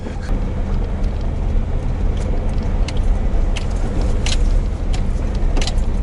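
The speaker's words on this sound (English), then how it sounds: "It took me a few miles to get used to driving this truck because it's so different than the Chevy." A 1990 Dodge W150 pickup truck drives along, giving a loud, continuous road and engine rumble with scattered rattles and clunks from the cab.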